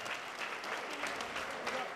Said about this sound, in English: Big round of applause for both fighters.